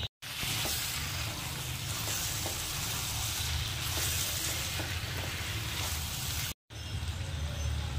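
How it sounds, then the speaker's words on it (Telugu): Bombay duck fish fry with masala in a pan on a medium gas flame, giving a dense, continuous sizzle that stays loud and close, broken by two short gaps. "ఎగిపోయిన తర్వాత మన చేపలు కూడా ఇందులో వేసుకొని 15 నిమిషాలు గ్యాస్ మీడియంలో పెట్టి చేపలు కూడా వేగించాలంటే మసాలాతో పాటు."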